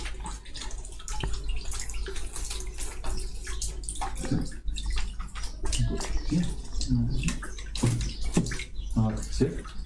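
Water mixed with camphor is poured and splashed while washing a deceased body, a continuous close pouring and dripping with people talking over it throughout.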